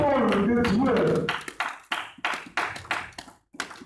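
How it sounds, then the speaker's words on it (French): A church congregation at a Sunday service claps for the word of God, loosely together at first and then slowing into a handful of separate, sharp claps that fade out, right after a voice speaks. "Est-ce qu'on peut acclamer la parole?"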